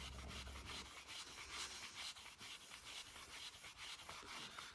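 A cloth rubs abrasive compound into the finish of a Stratocaster guitar, making a steady, faint scratchy swishing in quick back-and-forth strokes.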